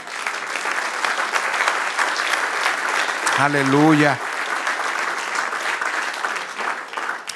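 Church congregation applauding during a Spanish-language sermon, a steady, full wash of clapping throughout, with a voice briefly exclaiming in the middle.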